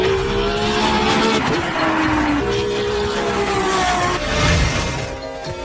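A Ferrari Formula One race car driving, loud high-pitched engine screaming through rapid rising and falling gear changes, close and constant with a squeal of tires.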